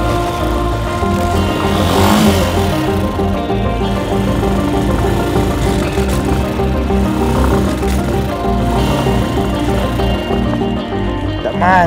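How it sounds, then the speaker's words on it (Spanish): A motorcycle stuck on a rough stretch of the Pan-American highway, its engine droning and straining steadily throughout with a rising rev near the start, while a voice talks over it. "No avanza la moto."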